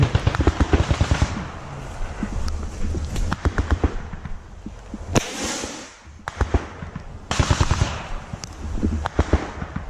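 Bursts of rapid gunfire crack out during army airborne infantry training in Latvia, loud close volleys in quick strings separated by short pauses, with a few single shots between.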